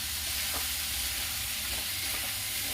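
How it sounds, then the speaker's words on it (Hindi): Chopped tomatoes with salt fry in hot oil in a pan, a steady loud sizzle and hiss running throughout, with a few soft scrapes of stirring breaking through now and then. "टमाटर को मैं बिल्कुल अच्छी तरह भून ली हूँ"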